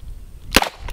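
A single sharp gunshot from a Colt King Cobra .357 Magnum revolver fired at a range, a loud crack with a brief echo tail, heard alone.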